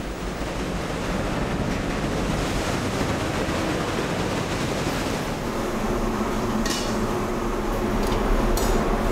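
Wind and waves on the open sea off Croatia, a steady broadband rush of surf and gusting air that holds loud and even throughout, with wind buffeting the microphone.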